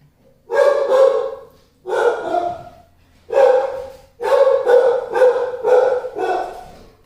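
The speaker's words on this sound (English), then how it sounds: "So I hear him like a barking." A dog barks in five or six loud, close bursts, some barks running together, with short pauses between them and no talking.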